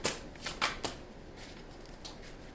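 Tarot cards being shuffled by hand, a few quick riffling bursts close up, with short pauses between them and no talking.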